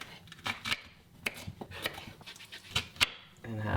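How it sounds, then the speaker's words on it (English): A knife chops portobello mushrooms outdoors by a forest campfire, a handful of sharp, separate cuts spaced irregularly against quiet rustling, near and fairly soft. "Clean up my mushrooms, chop off the edge."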